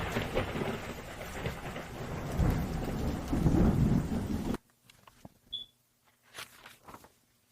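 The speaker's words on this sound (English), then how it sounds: "the thunder boomed so hard we weren't allowed to go outside" Heavy rain pours with deep rolling thunder for several seconds, then cuts abruptly to near quiet with scattered soft drips and a few faint rumbles.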